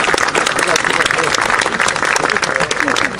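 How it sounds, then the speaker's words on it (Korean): Audience at a commemorative lecture by Lee Jae-jeong marking the fifth anniversary of the October 4 inter-Korean summit breaks into loud, dense, continuous applause, many hands clapping steadily throughout with no break. "다시 한번 뜨거운 박수를 부탁드리겠습니다."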